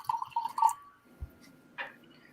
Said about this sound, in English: Pour myself a nice glass.